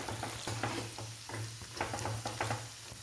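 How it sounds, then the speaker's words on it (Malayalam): Pork pieces fry for pickle, sizzling steadily while a utensil repeatedly scrapes and stirs them in the pan in an uneven rhythm, close and moderately loud with no talking. "നന്നായിട്ട് വറന്ന് വരട്ടെ"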